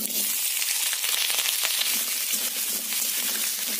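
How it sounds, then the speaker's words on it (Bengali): Cut potatoes frying in hot mustard oil in a heated wok, a steady close sizzle with crackling bursts throughout, no voices. "আলুগুলো খুব ভালো করে লাল লাল করে ভেজে নেব।"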